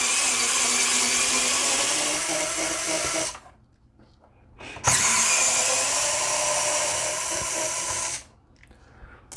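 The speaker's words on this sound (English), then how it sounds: "and then take out these 2 screws." An electric screwdriver whines as it backs screws out of a PlayStation 3 Slim 3001 console. It gives two long, loud runs split by a short pause, then cuts off.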